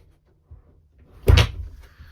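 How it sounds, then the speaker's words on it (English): A wooden shed door swings shut with a single solid thud, close by and fairly loud, followed by a short rattle as it settles, with a faint knock just before. "Let me shut this door so you can see"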